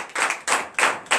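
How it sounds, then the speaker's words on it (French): Congregation at a morning church prayer service claps in acclamation, four quick bursts of hand clapping close by, no voices. "Donnez l'acclamation les frères."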